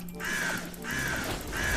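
Three harsh crow caws in steady succession in the Roblox game Realms of The Multiverse, loud and close, over a faint background hum.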